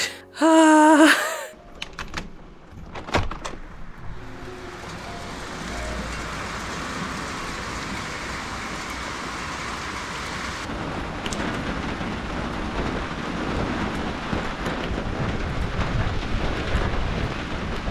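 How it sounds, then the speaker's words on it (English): Heavy rain pours down outside, a steady, dense roar that grows slightly stronger over time, after a short burst of breathy vocal sound and a few knocks at the start. "clearly it's absolutely pissing it down"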